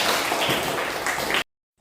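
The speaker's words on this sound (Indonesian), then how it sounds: "tepuk tangan untuk kalian" Students in a classroom give a short burst of dense clapping that cuts off abruptly into silence after about a second and a half.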